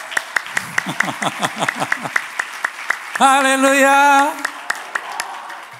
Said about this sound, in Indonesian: berikanlah tepuk tangan yang meriah bagi Yesus dan kita